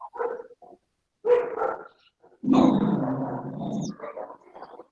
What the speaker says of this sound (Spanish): el que tiene el perro apague el micrófono.